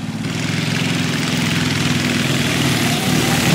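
Small mini bike engines, one of them a Rupp, roar together at the start of a dirt race as a loud, steady, close buzzing drone that builds slightly.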